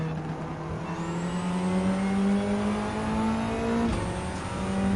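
Mitsubishi Lancer Evolution IX race car engine in Gran Turismo 7, a steady high-pitched whine that climbs smoothly through a gear, drops sharply on a shift, then rises again, loud and close with faint competing cars behind.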